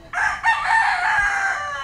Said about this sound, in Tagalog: So yan lang naman ang mga manok ko dito.